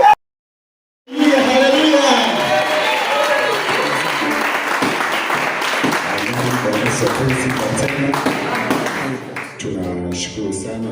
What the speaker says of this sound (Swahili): Mpigie Yesu makofi.